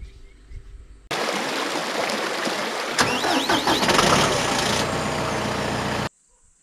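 A tractor engine cranks and starts, then runs loud and rough with some revving for about five seconds before it cuts off abruptly.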